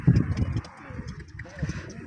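Pigeons coo in soft, low pulses near a pigeon keeper's loft while people talk over them, the cooing clearest at the start and returning briefly near the end.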